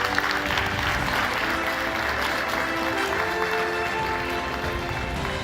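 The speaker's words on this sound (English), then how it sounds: "please give them another round of applause because they really deserve it" Audience at a space conference on climate change claps in a dense, sustained round of applause that fills the whole stretch at moderate loudness, without talk over it.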